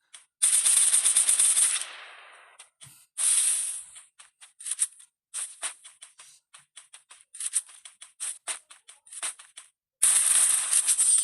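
Rapid gunfire in a shooting video game: bursts of automatic fire alternate with single sharp shots and brief pauses, loud and close, ending in another sustained burst.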